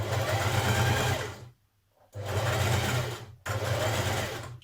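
A sewing machine stitches a dart on a woven top in three fast, close whirring runs, each a steady buzz separated by brief pauses, with no talk.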